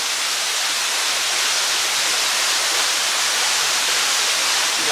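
A hidden waterfall inside a cave pours in a steady, loud broadband rush of falling water with no break, close and dominant, and no voices.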